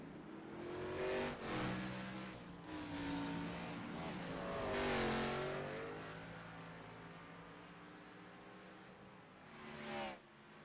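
NASCAR Xfinity race cars run the Charlotte Roval road course in a video game, loud engines rising and falling in pitch as they rev, brake and downshift through corners, with a pass sweeping by close.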